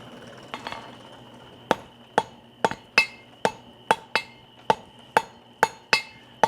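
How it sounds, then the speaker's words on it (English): Hammer blows on hot steel while forging a drop tong weld, about a dozen sharp ringing strikes in a steady, unhurried rhythm, close and clear with a metallic ring after each hit. "We'll give it some hammer blows."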